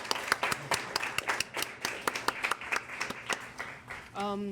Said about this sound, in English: We'll give a round of applause.